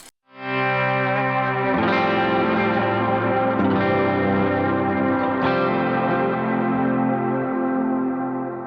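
Electric guitar chords ringing out with a wide, shimmering BBD chorus effect, a few strums sustained and slowly decaying, played alone.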